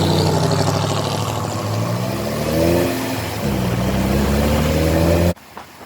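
A tuned 1967 Chevrolet Impala engine runs steadily with a low, rumbling tone that rises and falls in pitch, close and loud, cutting off abruptly near the end.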